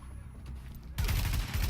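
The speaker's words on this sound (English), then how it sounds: "And I'm using an assault rifle now." Assault rifle fire in The Division video game: after a quiet lead-in, a sudden loud burst of rapid automatic shots rattles on continuously.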